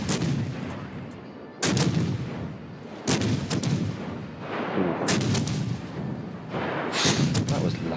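Heavy ship guns fire in a naval video game, roughly four loud booming salvos spaced a couple of seconds apart, each followed by a rumbling tail.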